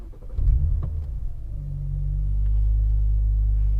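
A BMW N54 335i engine with a hybrid turbo, misfiring on cylinder 6, gives a deep uneven rumble. The idle roughens and then settles into a steady low drone, close to the microphone, with no talking.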